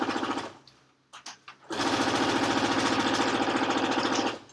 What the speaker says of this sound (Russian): Я шью на глаз, но не меньше 5 миллиметров от края.